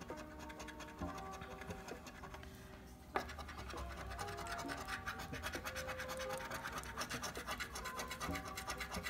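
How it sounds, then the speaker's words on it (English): Scratching off the multiplier numbers on an instant Cash in a Flash crossword lottery ticket, a close, steady rasping scrape that pauses briefly near the middle and then carries on continuously, with soft music playing underneath. "I'm gonna go ahead and scrape off the multiplier numbers."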